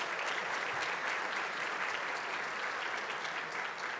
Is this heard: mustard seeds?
no